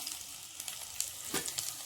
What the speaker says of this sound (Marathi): तेल गरम झालेलं आहे. बारीक चिरून घेतलेला लसूण, थोडंसं अद्रक बारीक चिरलेला